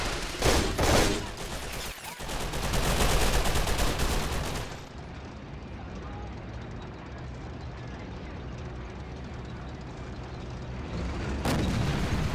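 A King Tiger tank fires in a WW2 video game: loud booming blasts and gunfire in the opening seconds, then a quieter rumbling battle bed, with another burst near the end.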